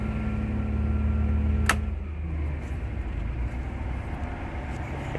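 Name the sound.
bus vibrating violently while running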